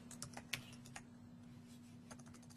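Typing on a computer keyboard while entering text into SolidWorks Electrical project properties, a quick run of soft, close key clicks in short bursts over a steady low hum, with no talking.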